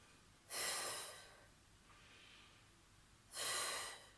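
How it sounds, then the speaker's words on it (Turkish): Two strong, breathy exhales, close to the microphone and a few seconds apart, with a fainter breath between them, during a 20-minute home workout for people over 50. "Her kalktığımda nefes veriyorum."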